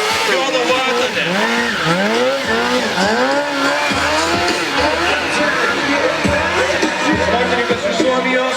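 A Finnish stunt rider, Joona Vatanen, performs at the Aras Challenge Stunt Art 2016 event, his motorcycle engine revving up and down in repeated rising sweeps with squealing tires, loud and close, while an announcer talks over it.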